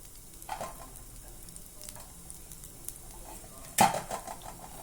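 Soft sizzling of finely chopped garlic frying in a pan, with a few clinks and scrapes of a utensil and one sharper knock.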